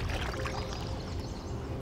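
Paddles dip and stroke through water as a boat glides near swans, giving a soft, continuous splashing and trickling close by, with no talk.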